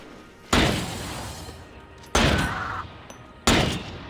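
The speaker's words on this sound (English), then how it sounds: "they've done an excellent job of those distant rifle shot sounds" Three sharp, distant-sounding rifle shots from the alien-horde shooter Earthfall, each a sudden loud crack trailing into a long echoing decay, spaced unevenly across a few seconds with no voices.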